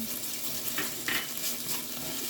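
Hot paste added to garlic and onions frying in a pot, a steady close sizzle with a couple of brief sharper spits, no talk.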